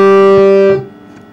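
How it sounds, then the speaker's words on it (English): Kharjnar harmonium combining one bass reed line with one male reed line, sounding a loud, rich sustained chord up close that cuts off sharply and fades into a faint tail. "wherein one line is kharj and another line is nar, it sounds like this."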